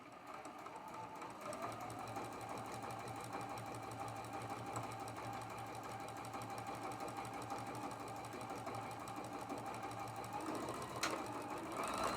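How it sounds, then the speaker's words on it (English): Sewing machine stitching a triangle onto a quilt four-patch, a steady close rapid stitching rhythm that runs nearly the whole time with no talk. "sew from one side to the other"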